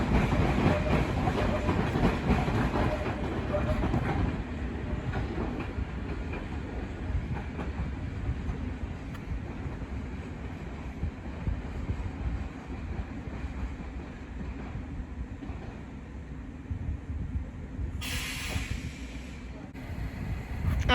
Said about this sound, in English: We now have another London Underground Central Line unit arriving